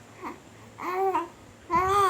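A baby babbles in a few voiced bursts with rising and falling pitch, close to the listener, with quiet pauses between the sounds.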